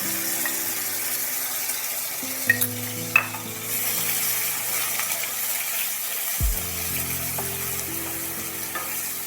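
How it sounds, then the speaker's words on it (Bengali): Spice paste of onion, garlic, ginger and green chili poured into hot oil and frying for a fish and eggplant dish, a dense steady sizzle with a few sharp clinks and a sudden hissing surge as the paste hits. "ঢেলে দিচ্ছি তেলের মধ্যে"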